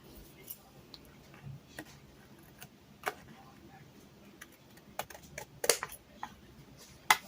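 Short, irregular snips and crisp clicks come from trimming the rough edges of paper for a page flip pocket, recorded close and quiet, with a couple of sharper cuts near the end.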